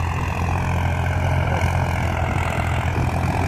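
A tractor engine runs steadily in second gear on hot, sandy ground, a loud, close, throbbing low drone with no talk over it.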